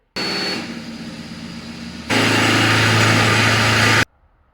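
A power drill whirs steadily drilling radiator mounting holes in a 1935 Chevy Master Deluxe, stopping briefly and then running again at a louder, higher-speed drone before cutting off.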